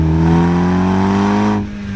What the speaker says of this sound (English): This car is absolutely insane, the way it claws itself out of a corner